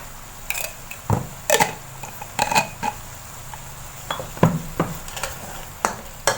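A small spoon clinks and scrapes against a pot or pan while adding sugar to Thai chu chee sauce for fried tilapia with coconut cream, several close metallic taps in an irregular rhythm, no talking.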